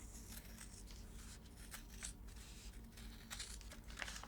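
Bordeaux scissors snipping through black fabric for a jelly roll rug, quiet repeated blade crunches and papery rustles close by, faint and steady with no talk.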